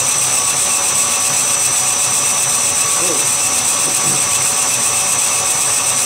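A metal lathe turns a BSA Bantam crankcase drain plug while soluble-oil coolant flows over the work, giving a steady, dense machining hum with faint whining tones that runs unbroken throughout.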